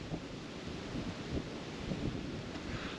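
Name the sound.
strong wind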